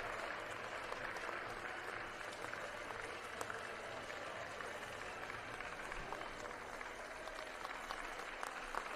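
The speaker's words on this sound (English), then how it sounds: "there's a lot of big round of applause right here at Asue Arena Osaka" A crowd applauds steadily at Asue Arena Osaka during a women's wheelchair basketball repechage game, a faint, distant wash of clapping that holds evenly throughout.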